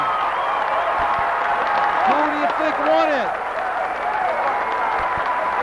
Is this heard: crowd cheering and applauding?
yes